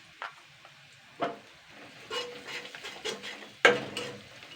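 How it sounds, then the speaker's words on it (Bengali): A spoon stirring radish greens with spices in a pan, giving intermittent scrapes and soft clinks at uneven intervals over a faint low sizzle, close and fairly quiet. "একটু নাড়াচাড়া করে নিলাম"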